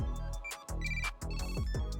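A Tile tracker sounds its locating ringtone, a bright repeating melodic chime in short bursts with brief gaps, clear and close with no talking.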